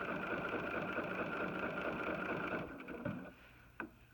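A BERNINA sewing machine runs steadily during free-motion quilting with an adjustable ruler foot, a close continuous motor hum and needle chatter that winds down and stops near the end, followed by a small click.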